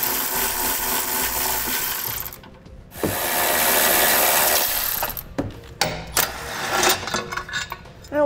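Impact or power tool loosening the 18 mm bolts holding a factory tow hook, heard as bursts of dense, broadband mechanical rattling with short gaps, then sharper intermittent clicks and clanks near the end; no talking.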